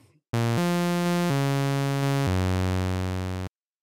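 A Serum synth lead in mono mode, patched to echo a melodic house lead, glides through four sustained legato notes, loud and bright with no gaps between them, ending abruptly after about three seconds.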